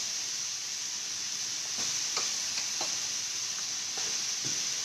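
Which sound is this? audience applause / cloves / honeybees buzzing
cloves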